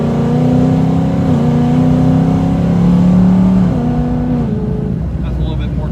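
A supercharged 2018 Mustang with a Coyote V8 and VMP Odin blower pulls hard from inside the cabin, a steady loud engine drone whose pitch climbs and steps with gear changes, easing toward the end.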